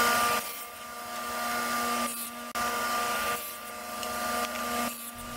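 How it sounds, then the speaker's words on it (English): A table saw cuts through a piece of wood fed with a miter gauge, making a steady, loud whining buzz with a few brief dips as the blade passes through. "as I'm pushing it with the miter gauge, I'm not up against the fence here"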